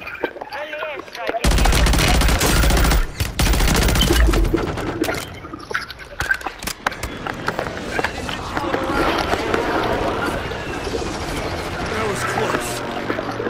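Rapid automatic gunfire bursts in the Call of Duty Warzone video game, loud and dense at first, then scattered shots and game effects continuing under players talking over voice chat.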